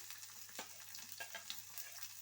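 Sliced onions frying in hot oil for a fenugreek stir-fry, a soft, continuous crackling sizzle with small bursts of spatter, quiet and close, no voices.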